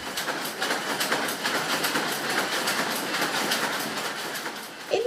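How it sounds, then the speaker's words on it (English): Working looms at the Quarry Bank cotton mill produce a steady, dense mechanical clatter and hiss, a continuous rhythmic rattle that stays loud and even throughout without any voices. "I made a recording of the working looms, and these recordings have formed the basis for the work."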